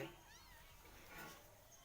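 A faint, soft meow from a cat, brief and high, against quiet background noise.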